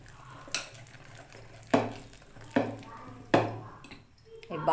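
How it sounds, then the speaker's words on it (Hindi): Cake batter for a banana cake being stirred into a mixture in a bowl, with four sharp spoon-against-bowl knocks spaced about a second apart over a soft, steady scraping bed. "अब इसमें हम इस बैटर को थोड़ा थोड़ा करके डालेंगे और मिक्स करते जाएंगे ताकि गुठली ना पड़े।"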